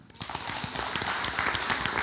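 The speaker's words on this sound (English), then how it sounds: "If we can give him a round of applause." A school board meeting audience breaks into a round of applause, claps starting sparse and quickly building into a steady patter.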